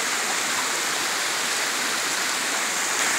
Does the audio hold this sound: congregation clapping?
no